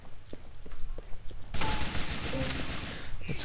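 Gunfire in a Grand Theft Auto IV firefight: scattered single shots at first, then a dense, loud burst of continuous rapid fire that fills the rest of the moment.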